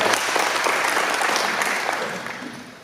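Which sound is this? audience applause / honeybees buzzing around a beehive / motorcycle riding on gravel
audience applause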